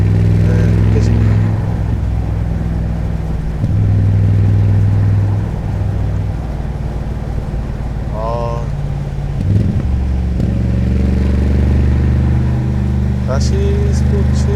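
A 2022 Mercedes-AMG G63 drives along with a deep, heavy exhaust drone that holds steady and loud from start to finish, and someone talks over it.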